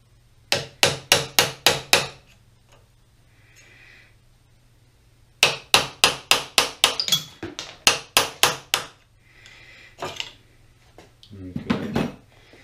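A freshly sharpened 1-inch wood chisel struck again and again while a Pratt & Whitney Model B 12 x 30 lathe is taken apart, giving sharp, evenly spaced metallic knocks in two runs of about six blows each, with quieter scraping and a few soft words after.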